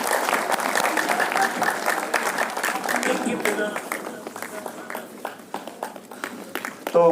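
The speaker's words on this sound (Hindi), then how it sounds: "और आपकी जोरदार तालियां बजनी चाहिए।" Applause at an event in India, a large crowd clapping loudly and densely at first and then thinning into scattered, separate claps, with voices murmuring underneath.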